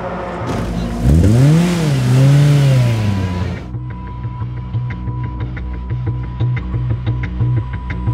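Race cars roar past on a track during a Fun Cup endurance race, one loud engine sweeping up and down in pitch before fading, followed by steadier engine drone with repeated rhythmic pulses.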